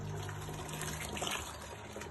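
Hot treated water runs through the grain bed during the sparge for a St Mary's Brewery Brut IPA, a faint, steady trickle and splash under a low hum with no talk.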